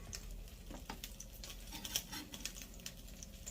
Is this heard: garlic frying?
yes